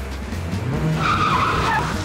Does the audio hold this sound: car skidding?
yes